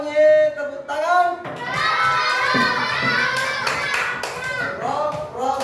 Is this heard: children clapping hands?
yes